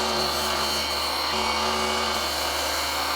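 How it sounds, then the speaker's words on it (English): Disc sander fitted with 1000-grit sandpaper grinding burrs off a kitchen knife blade, a steady high whine with a constant abrasive hiss, close and unbroken throughout. "Now I'm going to hit it with the 1000 grit sandpaper thing here, but a disc sander, and just take the burrs off."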